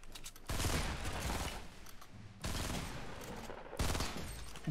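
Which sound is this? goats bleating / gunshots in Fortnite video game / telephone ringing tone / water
gunshots in Fortnite video game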